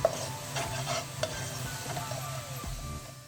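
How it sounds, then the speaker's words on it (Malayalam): Spicy Kerala-style chicken kondattam is stirred and fried in a pan, with a spoon scraping and tapping against the metal over a soft, steady sizzle. The stirring is close and comes in short strokes, and nobody talks. "ഇനി നമുക്കിത് നന്നായിട്ട് മൂപ്പിച്ചെടുക്കണം."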